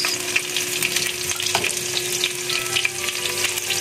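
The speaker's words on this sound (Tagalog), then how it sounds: "Gisa na natin yung bawang natin. Bawang muna guys, gisa natin. Sunod na natin yung sibuyas." Garlic and then onion sautéing in a pan for a Filipino squash, string bean and shrimp stew: a steady, dense sizzle with scattered crackles and a brief scrape of stirring, close and continuous, with no talking.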